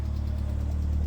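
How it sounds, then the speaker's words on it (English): Ford Fiesta RS Turbo with CVH engine, a low, steady burbling exhaust rumble at close range, heard alone. "nothing beats the burble of an RS Turbo"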